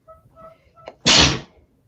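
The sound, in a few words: sneeze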